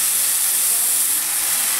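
Bok choy stir-frying in a pan, a loud, steady, broadband hiss of sizzling that holds even and unbroken from start to finish, close by.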